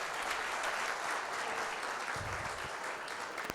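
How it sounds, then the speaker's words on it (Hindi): An audience claps loudly and continuously at a BrahmaKumaris gathering in Lucknow, a dense steady wash of applause that fills the whole moment. "अपने लिए जोरदार ताली बजाएंगे सर।"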